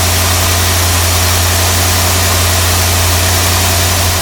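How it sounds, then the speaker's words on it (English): A 1981 Corvette C3 that had not run in a long time idles just after starting, with its choke still needing adjustment; the engine gives a loud, steady, close-up drone with no pauses. "Let it warm up for a little bit and then kick the idle down."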